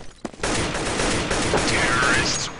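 Sustained loud gunfire in Counter-Strike as a player shoots through a wall, a dense continuous burst running almost the whole moment beneath commentary.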